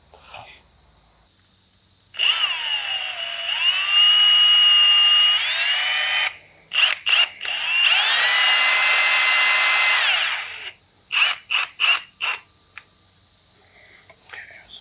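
A power drill whines at a steady high pitch in two long runs during a staircase makeover, then in several short bursts, with quiet gaps between.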